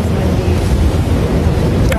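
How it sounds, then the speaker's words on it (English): Strong wind in Condado, Puerto Rico buffets the microphone with a constant low rumbling roar that never lets up. "It's so windy right here"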